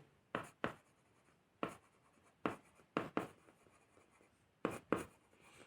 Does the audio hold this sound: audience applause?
no